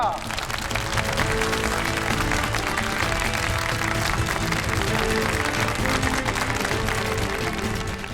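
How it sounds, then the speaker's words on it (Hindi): Applause welcoming Colonel Prashant Verma, a steady, even wash of clapping from a crowd sustained for several seconds, with voices underneath. "तो तालियों के साथ स्वागत हो कर्नल प्रशांत वर्मा जी का"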